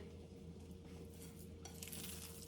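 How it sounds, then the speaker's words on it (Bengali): Lentil pakoras frying in oil in a small frying pan, a steady soft sizzle with a low hum beneath and a brighter crackle swelling in near the end. "এখন আমি এই ফ্রাই প্যানে, ছোট্ট একটা সাইজের ফ্রাই প্যানে সবগুলা পাকোড়া ভেজে নিব"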